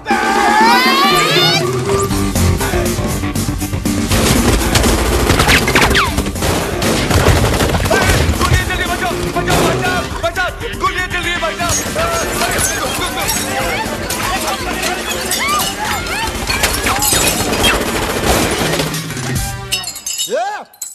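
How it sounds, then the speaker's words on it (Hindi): Gunfire in a Bollywood comedy film scene, loud bursts of shots mixed with shattering glass and crashes, continuous and dense over shouted dialogue and background music. "तो वो बोलता है गोलियां कौन चला रहा है रे?"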